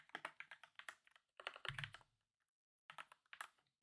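Typing on a GK96s mechanical keyboard produces bursts of rapid, crisp key clacks, close and clear, separated by short pauses, with no talking.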